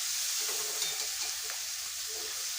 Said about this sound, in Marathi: चांगलं 1-2 मिनटं परतून घ्यायचं.